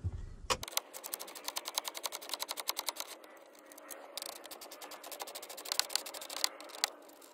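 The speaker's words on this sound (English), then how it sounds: "throw on a 10 millimeter socket and we'll get these unscrewed" A 10 millimeter socket on a ratchet backs out the radio bolts in a Toyota Tundra dash, giving rapid, even ticking in quick bursts with brief pauses, close and crisp.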